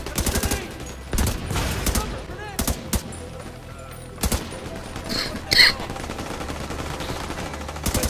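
Gunfire in the video game The Division 2, repeated sharp bursts and single shots firing at irregular intervals, loud and close, with a voice talking in between.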